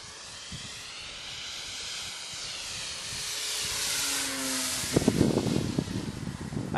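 A Guanli FW 190 RC model airplane passes with a rising electric whine and hissing airflow, growing louder as it approaches, while wind buffets the microphone near the end.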